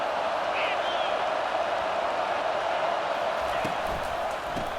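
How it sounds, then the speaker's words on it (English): A loud football stadium crowd roars steadily to back its defense, a continuous dense wall of cheering with a few sharp thumps and bangs near the end. "It is getting loud as this crowd tries to help its defense."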